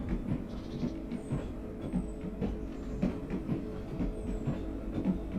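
A train rolling along track in the game Foundry, a low steady rumble with rhythmic clicking thumps from the wheels and faint high squeals, moderately loud and continuous, without speech.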